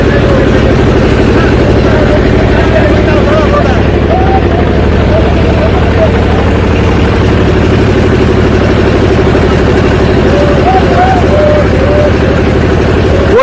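On a wetland, a trawler boat's engine runs in a loud, continuous low drone with a steady throbbing pulse, holding constant throughout with faint voices underneath.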